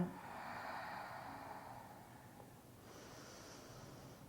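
Slow, deep breathing during a yoga breathing exercise: a long airy exhale fading over a couple of seconds, then a quieter, softer breath, close and alone with no talking.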